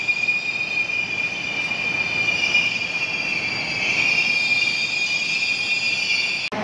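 Steady high metallic wheel squeal from the Soekarno-Hatta airport train rings loudly and continuously over a rumbling carriage, with no talk, ending abruptly.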